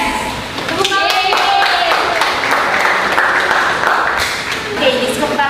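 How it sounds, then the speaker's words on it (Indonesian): Group applause from a classroom of teachers after a small-group presentation, a dense, sustained burst of clapping lasting several seconds with voices mixed in. "Tepuk tangan."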